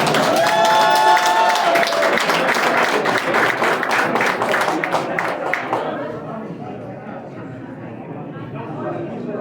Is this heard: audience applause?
yes